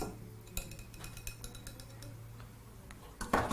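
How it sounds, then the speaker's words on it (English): Faint clinking of a whisk against a bowl while an oil mixture is whisked for a rosemary chicken and potato bake, light irregular taps and scrapes with a louder clatter near the end. "So whisk that together right up until your oil is completely dissolved in the mixture."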